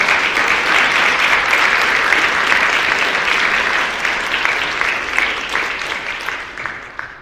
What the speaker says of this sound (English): Please give a round of applause to the amazing panelists.